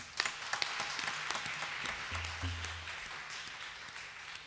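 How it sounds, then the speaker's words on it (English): An audience applauds a Natvangam performer: a dense, steady crackle of many hands clapping, moderately loud and sustained, with a brief low hum partway through. "let's give a round of applause to Srimati Aruna Chandra on the Natvangam"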